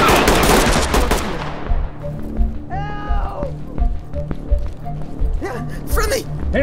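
Gunfire in the tactical shooter Ready or Not, opening with a dense burst of loud automatic shots, then scattered shots and impacts while voices shout over the action.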